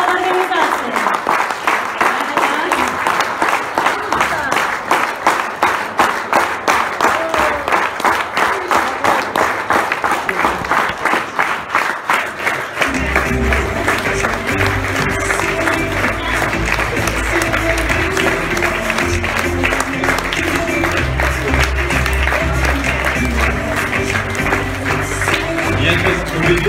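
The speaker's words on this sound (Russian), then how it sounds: "Давайте под аплодисменты, давайте еще раз." Sustained audience applause at a youth organization event, dense clapping from many hands, with music and voices joining in partway through.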